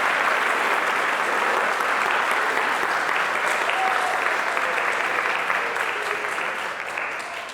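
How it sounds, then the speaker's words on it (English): An audience claps together after an introduction at an artist talk and performance, a dense, loud, sustained ovation that tapers slightly toward the end. "let's give them their attention and applause"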